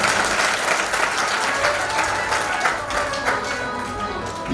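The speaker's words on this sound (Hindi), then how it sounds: "एक बार ताली बजाकर जोरदार स्वागत।" A crowd at a religious katha gathering claps in sustained, dense applause as a warm welcome, steady and fairly loud throughout.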